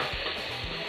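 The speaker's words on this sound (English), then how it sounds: "So while this is frying up, sauteing" Close, continuous sizzling of vegetables for an egg roll filling sautéing in a hot pan, with a few soft low knocks as they are stirred.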